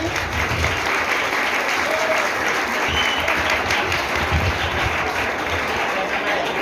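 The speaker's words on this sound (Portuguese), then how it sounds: "Salva de palmas a ela, querida." Sustained audience applause welcoming a tutor to speak at a school literary event, steady dense clapping from a crowd throughout with no talk over it.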